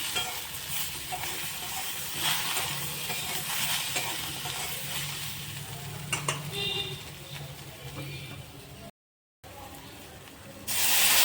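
Spices with salt and turmeric fry in a pan, giving a steady close sizzle and hiss with scraping stir strokes, then a brief cut-out and a louder rush of sizzling at the end.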